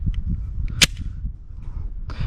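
Handgun slide racked once with an empty magazine inserted, a sharp metallic snap standing out over low background rumble, followed by a softer clack about a second later.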